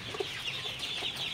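Chickens cluck softly inside a poultry house during light rain, a few short overlapping clucks at moderate distance in a brief moment.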